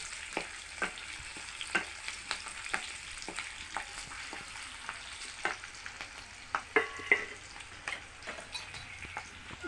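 Green chilies fry in a hot pan for a gathi kochu dish, a steady crackling sizzle broken by frequent sharp pops and spits, close and moderately loud, with no voices.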